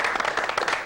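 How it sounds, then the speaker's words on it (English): A studio audience applauds in a short burst of dense, overlapping hand claps. It is fairly close and continuous for under a second. "let's all give each other a round of applause"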